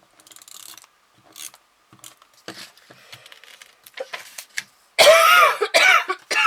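Soft rustling and small clicks, then a loud, raspy burst of coughing close up near the end.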